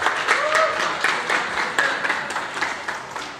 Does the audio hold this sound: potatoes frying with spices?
no